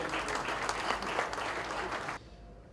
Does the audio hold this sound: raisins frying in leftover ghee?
no